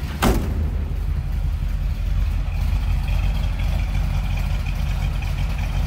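A 350 V8 engine in a 1948 Ford Deluxe Coupe street rod idling with a low, steady rumble, heard up close after a brief knock at the start.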